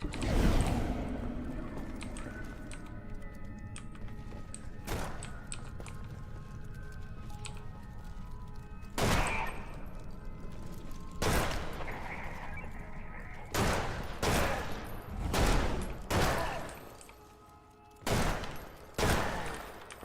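Shots fired at enemies in the KVLT game land as separate loud cracks, spaced irregularly at first and then bunching into quick clusters toward the end, over low background noise with a few quiet spoken words.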